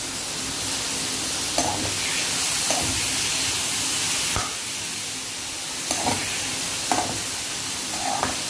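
Paneer kadai masala with peppercorns and tomatoes cooks in a pan, giving a steady close sizzle and hiss with a few faint clicks and stirring touches throughout.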